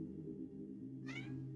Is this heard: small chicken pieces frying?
no